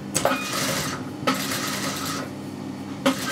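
A sewing machine stitches hem trim onto fabric with a steady mechanical whir and hum, punctuated by three sharp clicks spaced about a second apart; fairly quiet and close, with no talk.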